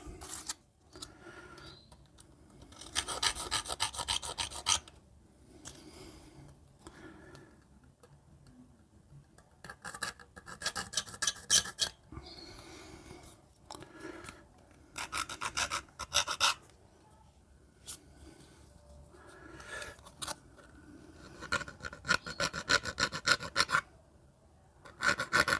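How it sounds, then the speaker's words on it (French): A small file rasps against the freshly cut edge of a model station building part in repeated short bursts of strokes, close and fairly quiet, with pauses between bursts. "petite lime"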